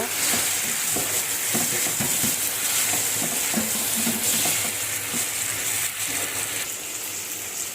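Potatoes and tomatoes sautéing in a pan, a loud steady sizzle broken by frequent spatula scrapes and stirring clatter, continuous and close with no talking.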